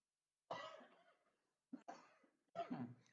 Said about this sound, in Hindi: लेकिन थोड़ी बहुत ये खांसी हो जाती है